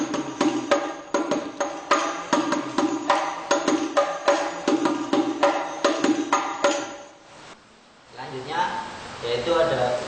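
A basic hadroh frame-drum beat pattern played by hand, a steady run of sharp, close slaps with a quick repeating rhythm for several seconds, then a brief pause before a spoken voice comes in.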